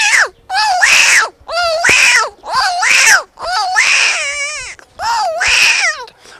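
A voice imitates a newborn baby crying, producing a series of loud, close, wavering wails in repeated bursts separated by brief breaths.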